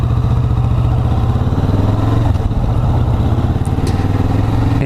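A Kawasaki Vulcan S motorcycle engine runs loud and close at low, steady revs during a tight U-turn, with a throbbing idle-like rumble and light mechanical clatter.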